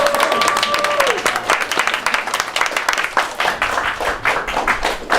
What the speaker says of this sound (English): You guys can clap to that if you like.